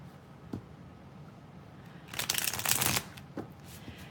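Tarot cards being shuffled in a quiet room: a soft flick near the start, then a dense riffling burst of about a second, followed by one more short card snap.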